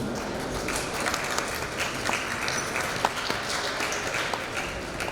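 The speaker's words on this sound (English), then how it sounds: "That was a really big clap for a small but very interested group." A small audience at an artists' talk in a shopping centre applauds warmly, steady dense clapping throughout with a few sharper individual claps standing out.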